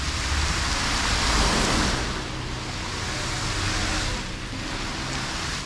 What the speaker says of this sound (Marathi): हा एक वॉटरफॉल आहे जो डायरेक्ट आहे ना रोडवर खाली पडते